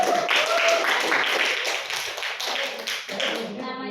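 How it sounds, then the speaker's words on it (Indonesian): A classroom full of students clapping together during a micro-teaching lesson, a dense, steady patter of hand claps at close range that fades near the end. "Baik kita beri tepuk tangan dulu."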